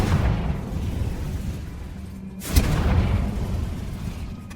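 A Confringo fire spell bursts in Hogwarts Legacy, a single booming blast landing mid-clip over a steady rumbling game ambience with no voices.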